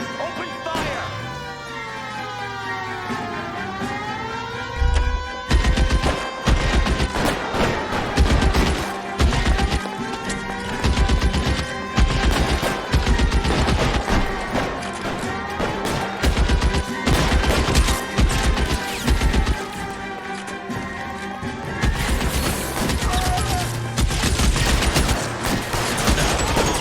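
Dense gunfire fills a shootout in LA Noire, with rapid volleys and single cracks layered over a dramatic orchestral score, loud and close throughout, along with shouted voices.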